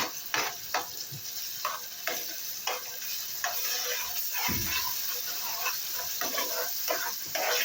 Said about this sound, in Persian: موادمون اضافه میکنیم و همش میزنیم